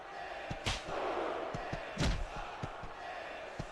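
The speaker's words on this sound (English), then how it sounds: "This capacity crowd is solidly behind their superstar." A capacity crowd roars steadily in a WWE wrestling video game during Randy Orton's season mode, with heavy slams and thuds cutting through the cheering noise.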